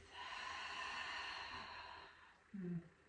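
A long, deep breath during a yoga exercise: a drawn-out airy exhale lasting a couple of seconds, then a brief voiced sigh, close and quiet.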